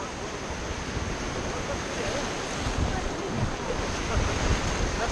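Rapids on the Kolad River give a constant, dense roar of rushing whitewater during a rafting run, loud and close with wind buffeting the microphone and a faint voice buried underneath.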